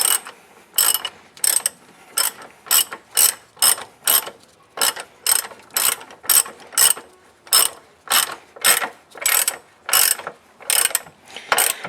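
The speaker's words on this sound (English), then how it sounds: "now we'll torque them down" A ratchet wrench clicks in repeated rapid bursts, about twenty close, loud strokes, tightening the front sway bar bushing bolts on a Toyota Corolla, with no talking.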